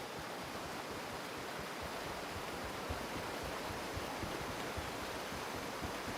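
Steady rushing waterfall in the Gray Zone Warfare game world, a continuous broadband wash of falling water with no breaks, moderately loud and unchanging from start to finish.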